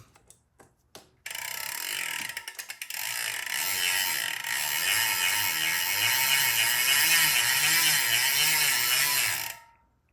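A ratchet tool fitted with a Shimano-type bike tool loosening a bolt on a bicycle: a fast, continuous mechanical clicking close by, running steadily for several seconds and then stopping abruptly.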